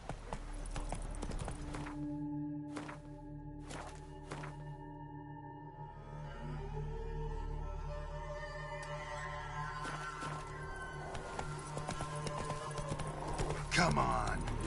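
Hooves of Roach, a horse in The Witcher 3, clip-clop at a steady walking rhythm with a brief whinny, mixed with game music tones and a few spoken voices.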